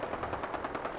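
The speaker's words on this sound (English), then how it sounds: "That minigun of theirs is not particularly effective." Minigun fire in the modded video game Fallout 4, a short burst of rapid, evenly spaced shots at moderate loudness and some distance.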